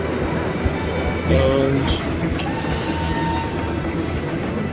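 A train runs through a theme park in the Planet Coaster video game, giving a steady rumbling rail clatter with a brief louder swell, mixed with park ambience and a little background talk.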